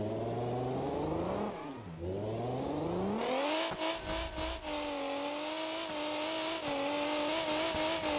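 A video game car engine revs hard, its pitch sweeping down then climbing and holding high in a loud, continuous whine with a few brief jolts.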